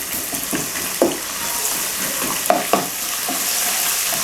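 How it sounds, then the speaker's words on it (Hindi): Ginger garlic paste with garam masala hits hot oil, a steady sizzle and fry hiss with a few sharp spoon-scrape stirring clicks, close and alone without talk. "तो अब हम इसमें डालेंगे अदरक लहसुन का पेस्ट।"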